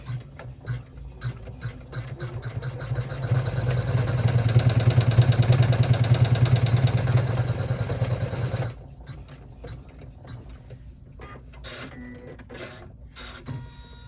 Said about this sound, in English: Now we're going to run step 11, which is the top stitching.